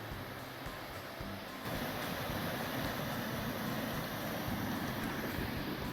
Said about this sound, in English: there's the creek right through the trees